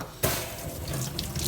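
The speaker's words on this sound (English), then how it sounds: "Let me just wash my hand first." Running tap water splashing over hands being washed at a kitchen sink, a steady close rush that starts abruptly after a brief pause.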